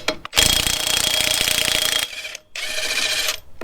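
A Makita impact wrench on its low setting loosening lug nuts, with two loud, close bursts of rapid hammering rattle, the first about 1.7 seconds long and the second shorter after a brief pause.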